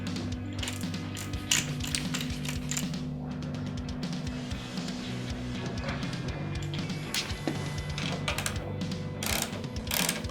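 A wrench tightens the front axle of a motorcycle during a fork shroud install, with ratcheting clicks and mechanical clatter close by over a low steady hum, and no talking.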